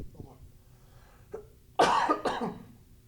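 A person coughs twice in quick succession, loud and close, after a few quieter throat sounds.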